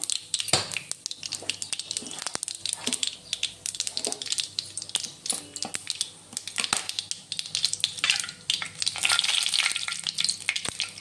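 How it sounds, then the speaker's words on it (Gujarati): Mustard seeds, cumin, a bay leaf, star anise and cloves crackle and sizzle in hot ghee, a dense, busy popping that keeps up throughout and grows louder toward the end. "આ ઘી ગરમ થઈ જાય એટલે આપણે રાઈ, જીરું, એક તમાલપત્ર, બાદિયા અને લવિંગ એડ કરશું."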